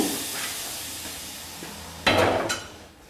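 WD-40 sprayed onto a tyre as a mounting lubricant for stretched tyres on a V6 turbo drift car: one loud, close hissing burst of about half a second, with a shorter spurt just after, following a faint low background.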